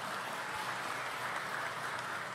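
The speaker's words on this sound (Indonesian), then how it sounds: "Tepuk tangan semuanya." Audience applause at an Indonesian small-business creative expo, a steady wash of dense clapping from a crowd that holds at an even level throughout without any speech over it.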